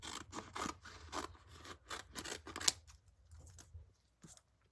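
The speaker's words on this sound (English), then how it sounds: "I'm going to cut this one" Scissors snip through a UV DTF transfer sheet in a quick series of close, crisp cuts and rustles, then the cutting trails off into quiet.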